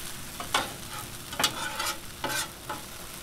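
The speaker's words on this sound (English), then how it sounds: "We mix them together with the corned beef." Potatoes and corned beef sizzling on a Blackstone 22-inch griddle while a spatula stirs them, a steady fry broken by four scraping strokes, close and without talk.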